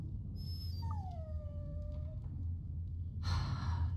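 A dog in Dragon Age Origins gives a single drawn-out whine that slides downward in pitch, close and clear over a steady low game-ambience hum.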